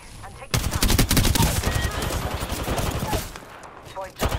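A sudden, loud burst of rapid automatic gunfire in a video game match rattles for several seconds, then tapers off, with a voice briefly audible near the end.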